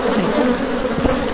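An agitated honeybee colony buzzes loudly and densely up close as the hive is handled and smoked, a continuous angry drone filling the whole moment without speech.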